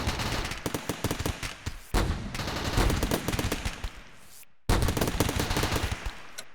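Rapid automatic gunfire bursts mixed with explosions in the space colony game RimWorld, dense rattling volleys that break off briefly twice, loud and close, with no talking.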